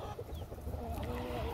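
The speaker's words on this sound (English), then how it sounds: "I think this one's a rooster." Backyard chickens clucking with a rooster among them, a dense, continuous low chatter of fowl close by with no talking over it.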